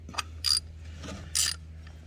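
A ratchet snugs a bolt during an oil change on a Lexus IS 250, with a few quick, close ratcheting clicks in short bursts over a low background hum.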